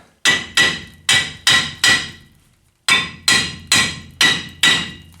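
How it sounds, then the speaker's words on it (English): A GMC 2500HD brake drum takes hard hammer blows to loosen the park brake shoes inside: five sharp ringing metallic hits, a short pause, then five more, evenly spaced and close. "smacking the outside like that and pulling at the same time if you can, because that will loosen up the brake shoes inside"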